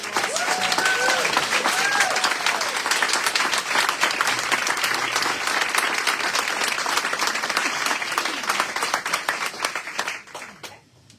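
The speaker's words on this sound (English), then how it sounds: "Can we give one more applause for this panelist?" A crowd applauds loudly and steadily for a panelist at a public forum, with a few cheers and voices mixed in, then the clapping fades out.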